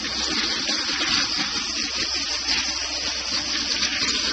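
Water gushes steadily from a hose into pelleted horse bedding, a loud, continuous broadband splash and rush that holds without a break.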